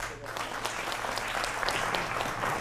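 Studio audience clapping during a televised political debate show, a steady dense patter of many hands that holds for the whole stretch without a break.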